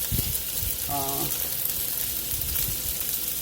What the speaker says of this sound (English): I got my mushrooms back there on the back burner there. They're cooking nicely.